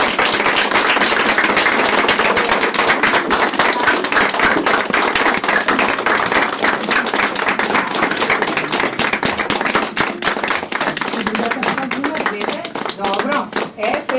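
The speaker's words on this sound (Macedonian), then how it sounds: "Излезете сите да се поздравите и да ги поздравиме со аплауз сите што учествуваат." Audience applause at a children's New Year theatre play, dense continuous clapping from many hands sustained throughout, with voices mixed in underneath.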